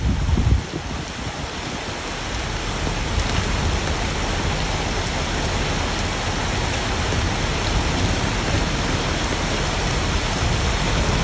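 Heavy rain pours steadily in a dense, loud wash of noise during a windy hailstorm, with rushing floodwater roaring underneath throughout, no voices.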